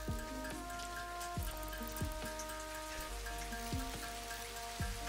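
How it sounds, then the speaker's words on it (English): Soft, steady hiss of heavy rain in the game Satisfactory, layered over a low hum and recurring falling tones from factory machines, with no talking. "Oh, and it's heavy rain in the game."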